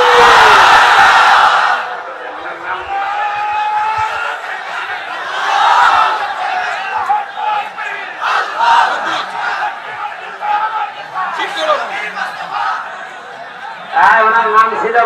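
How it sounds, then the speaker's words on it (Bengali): A crowd at a Bengali religious gathering shouting takbir, loud massed voices in several rising waves, each swelling and fading, with a final burst at the end. "আপনারা দেন তো লিল্লাহে তাকবীর"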